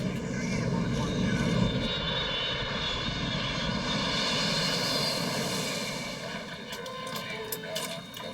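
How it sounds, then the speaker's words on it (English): An Egypt Air airliner taking off at night, a loud continuous jet engine roar with a deep rumble and steady whine, holding strong before easing slightly toward the end. "Egypt Air Flight 648 is finally cleared for takeoff"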